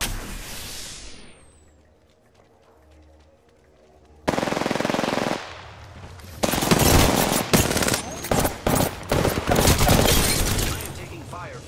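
Gunfire erupts in the shooter game Apex Legends: a faint trailing rattle fades out, then loud, close bursts of automatic fire hammer in rapid repeated volleys with breaking crashes, while a voice speaks between the shots.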